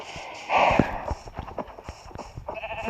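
Minecraft sheep bleat once in a short, close burst, followed by light clicking, tapping game sounds while someone talks quietly.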